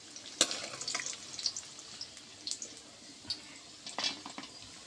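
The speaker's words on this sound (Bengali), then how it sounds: "আর এদিকে আলু ভাজছি আমি" Potato pieces fry in a pan of hot oil, a steady soft crackle broken by scattered sharper pops and spits that carry over the whole clip at moderate to low volume.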